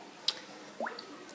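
Water played with egg cups gives two brief wet squishing drips, a sharp plop and then a rising bloop, close and fairly quiet.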